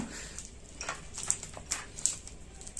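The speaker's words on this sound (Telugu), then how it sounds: "ఇప్పుడు నేను ఈ ప్యాకింగ్ అనేది ఓపెన్ చేస్తాను." The packaging of a multi-function screwdriver set is being opened by hand, giving faint, scattered crinkles, rustles and small ticking clicks spread unevenly through a quiet room.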